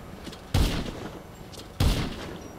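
Two loud, close bursts of gunfire ring out in a video game role-play, each a sharp crack with a booming tail, about a second apart over a low background.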